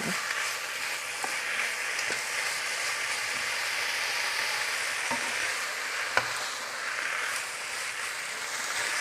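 Food being stir-fried in a pan for a Vietnamese bò bún dish, a steady close sizzle with occasional scraping stirs throughout, no talk.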